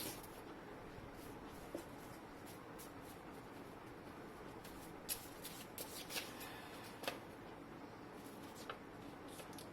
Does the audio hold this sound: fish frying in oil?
no